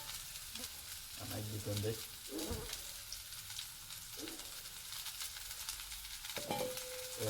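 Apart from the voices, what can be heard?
food frying in hot oil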